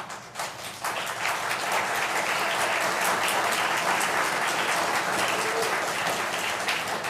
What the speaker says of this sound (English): nothing I like more than applause